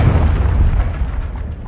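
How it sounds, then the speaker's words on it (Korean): A cruise missile explosion in Modern Warfare 2 rumbles as a loud, sustained low-end boom that rolls on for nearly two seconds, heavy and close with no voices over it. "오, 크루즈 미사일 인커밍이래."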